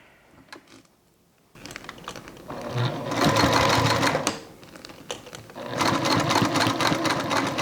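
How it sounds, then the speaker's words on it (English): A sewing machine stitches a seam on a thick, glued Suzi toiletry bag, its rapid steady running coming in two loud bursts after a short quiet start. "now we're going to try and sew this in place"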